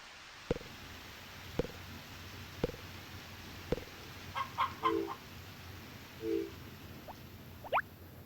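Hens clucking in a full hen house in the Harvest Moon video game, several short clucks and calls in the second half, with soft regular thuds earlier and no talking.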